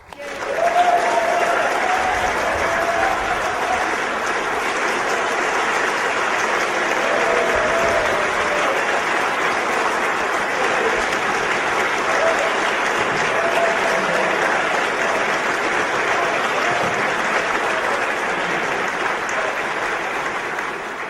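A large audience gives Ron Paul a long, loud ovation of continuous dense clapping and crowd noise that stays strong for about twenty seconds.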